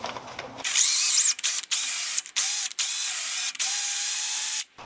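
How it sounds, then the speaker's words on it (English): A power drill whines in several bursts, starting and stopping repeatedly as it bores into a metal part to fit a grease zerk for suspension bushes, loud and close. "we first need to drill a hole and tap for our zerk fitting"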